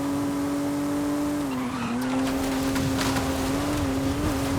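Car engine revving and accelerating in the Forza Horizon 5 racing game on PS5, a steady loud whine that dips briefly and climbs again, with faint tire noise and no talk.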